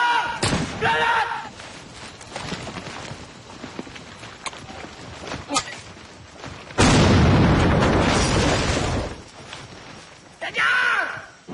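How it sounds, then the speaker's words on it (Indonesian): A grenade blast in a war film set around General Soedirman: a sudden loud roaring burst that lasts about two seconds, surrounded by sharp clatters, thuds and shouting voices. "Granat!"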